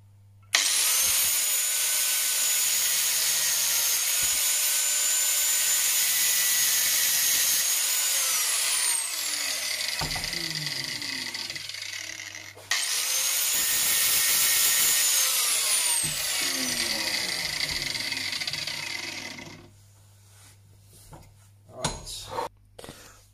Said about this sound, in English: I'm going to cut them tabs off